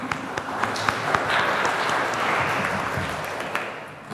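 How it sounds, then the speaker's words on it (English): Churchgoers at a late service applaud the choir after an anthem, a fairly steady spread of clapping with a few sharper claps standing out, moderately close, with no voices. "I think we can give them a round of applause."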